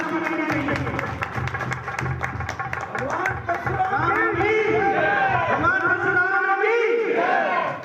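An audience applauds in welcome at a three-day Bhagwan Parshuram birth-anniversary celebration, steady massed clapping joined by crowd voices and a loud shout or cheer, with talk running over it.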